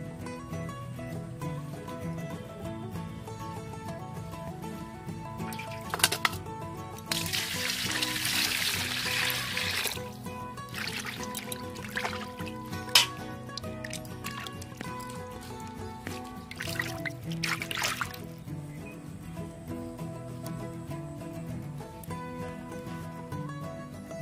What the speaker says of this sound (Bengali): এবার জল দিয়ে ধুয়ে নেব।